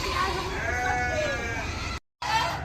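Sheep bleat loudly and close in a wavering, nasal cry, followed by a brief silence and another short bleat, with people talking softly nearby.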